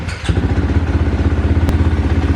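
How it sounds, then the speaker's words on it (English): Husqvarna FC motocross bike starting at Rogers Hill Raceway, a quick thump and catch settling into a loud, close, rapidly pulsing engine idle. "Now if I have to start the bike."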